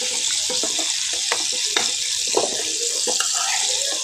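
Fried chicken pieces stirred with a spatula in hot oil, producing a steady wet sizzle with scattered scraping clatters throughout.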